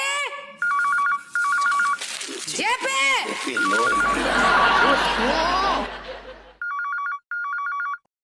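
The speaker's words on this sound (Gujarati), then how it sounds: "અરે ફોન નથી સંભળાતો" A telephone rings in short repeated double bursts during a Gujarati comedy sketch, with laughter and voices in between and the ringing returning loud and close near the end.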